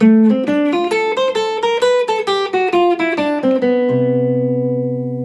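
A clean jazz guitar plays a quick ii-V-I melodic run of single notes, ending on a sustained chord that rings out and slowly fades.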